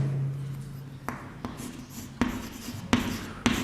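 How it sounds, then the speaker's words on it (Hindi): A pen or chalk writes a definition by hand, giving a series of scratchy strokes and taps spaced about half a second apart, close and moderately loud. "तो डेफिनेशन में लिख देता हूं,"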